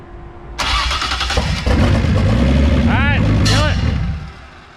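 A Datsun 280ZX race car engine cranks and catches in a garage, loud and close, a steady mechanical rumble with a high whine rising midway, with voices over it.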